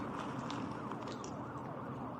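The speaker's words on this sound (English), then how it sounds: "She backed up towards the gate, hearing the sound of sirens approaching." Emergency vehicle sirens approach, their wailing tones sweeping up and down over a dense, steady wash of noise, with no talking.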